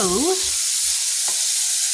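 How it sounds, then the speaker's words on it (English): Steak and chicken sizzle in a hot skillet with a brief clatter of stirring at the start and a few soft knocks, the frying hiss continuing throughout. "frying up the rest of the steak and chicken that we had from our skillet night"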